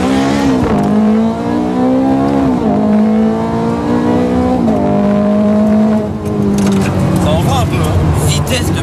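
A Ferrari F430 Scuderia accelerates hard from close range, its loud engine note climbing in pitch and dropping sharply at each of several rapid gear changes.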